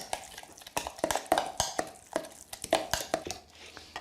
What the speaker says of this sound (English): Just give it a little stir.